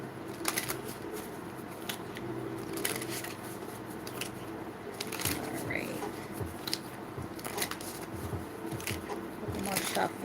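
Tarot deck being shuffled by hand, repeated papery riffles and soft card slaps at close range during a live reading, with a voice speaking briefly over the shuffling.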